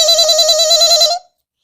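Phone ringing in an animated Awadhi comedy, a loud electronic warbling ring that lasts about a second and then stops abruptly into silence.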